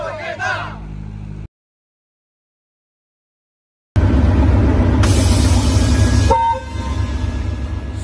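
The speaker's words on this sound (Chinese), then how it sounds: "随着火车汽笛声的响起，中老铁路首列直发生鲜班列正式发车" The first direct fresh-produce freight train on the China-Laos railway departing, with train noise and a horn blast rising loud and close after a break of silence, while a crowd's voices sound at the start.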